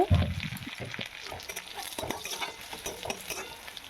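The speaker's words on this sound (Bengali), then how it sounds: "এবার এটাতে আমি একটু লবণ দিয়ে ভালোভাবে নেড়ে চেড়ে ভেজে নেব।" Salted onions fry in a pan as a utensil stirs and scrapes them, with soft sizzling under repeated close clinks and scrapes, a louder knock at the start, and no talk.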